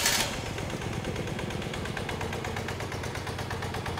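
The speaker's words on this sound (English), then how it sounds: "I'm gonna start the bike" A BMW R75 motorcycle engine with a newly fitted electronic ignition fires after a sharp initial burst and settles into a loud, steady, rapid idle thrum close by.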